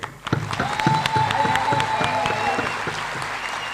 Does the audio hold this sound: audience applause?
yes